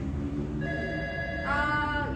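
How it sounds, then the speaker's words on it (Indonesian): A telephone rings in a studio during a live campus admissions broadcast, its steady electronic ring repeating over about two seconds at moderate loudness with no voices over it. "telepon bella berdering karena kita lagi live"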